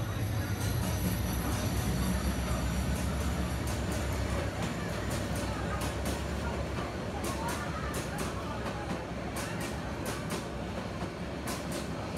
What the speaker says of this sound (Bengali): বন্ধুরা, আমাদের ঢাকা যাওয়ার ট্রেন চলে এসেছে।